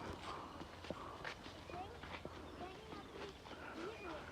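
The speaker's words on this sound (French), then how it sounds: "Anaïs, viens filmer le cheval. Avec la charrette typique." A horse pulling a traditional cart at Bokrijk in Genk, its hooves clip-clopping in a steady walking rhythm at moderate distance, with outdoor background chatter.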